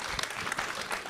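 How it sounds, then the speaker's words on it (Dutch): Audience applause at a live stage event, a brief burst of dense, even clapping heard fairly quietly for about a second. "Nog één keer een applaus voor Stijn alsjeblieft."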